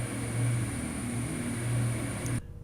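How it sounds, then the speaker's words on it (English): Diesel engine of a Class 220 Voyager train in Train Sim 2014, a loud, steady droning hum with a high whine, running unbroken before cutting off abruptly near the end. "Damn dirty diesel trains."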